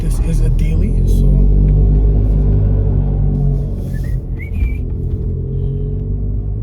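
A VW Golf R lowered on H&R springs drives on city streets, its engine a low steady rumble with road noise, easing off midway, while someone talks over it.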